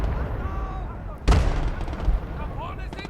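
Tank gun and artillery fire in a World War II strategy video game, one loud blast standing out above a rumbling backdrop of distant battle noise, with a voice talking.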